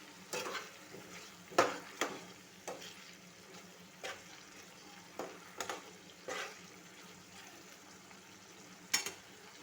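Banana flower curry being stirred in a pan for a Bengali mocha ghonto, with repeated soft scraping strokes over a low, steady sizzle, moderately close and without talk.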